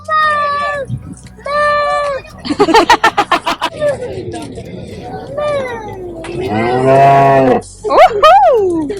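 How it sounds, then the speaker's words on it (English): Groomed cattle at a livestock show give several loud, close moos with drawn-out bellowing calls and short grunting pulses, over background chatter from a crowd. "These are the cleanest cows I've ever seen in my life."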